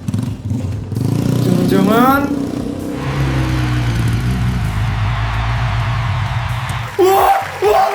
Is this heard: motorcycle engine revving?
yes